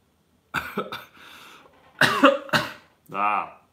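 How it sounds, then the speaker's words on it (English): A person coughs several times in quick bursts, then clears their throat with a rougher, voiced hack at the end; close and fairly loud. "This cough is quite frustrating."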